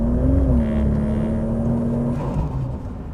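A Holden VL Calais Turbo, an 80s muscle car making 300 rwkW, drives along with a steady engine drone and a rising whine as it accelerates, heard from inside the cabin.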